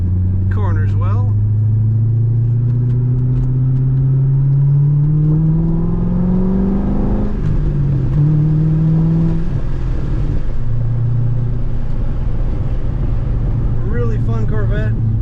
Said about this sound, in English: I'll open the window for you and you can hear this exhaust sound a little bit